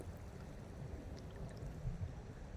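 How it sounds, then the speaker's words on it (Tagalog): Sea waves at a beach shore growing stronger as the tide rises, a steady broadband wash and surge of water, moderately faint and continuous with no voices. "kaya medyo lumalakas ang alon."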